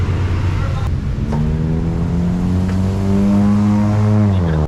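A Yamaha XMAX 300 V2 scooter on its first ride in the rain, its engine humming steadily up close, then rising in pitch as it accelerates, with the wind and road noise of the ride all around.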